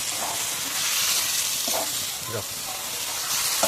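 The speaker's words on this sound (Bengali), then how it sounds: "কি সুন্দর করে এই মাংসটা কষানো হচ্ছে" Native duck meat is sautéed with spices in a pan, giving a steady, loud frying sizzle with occasional stirring scrapes throughout.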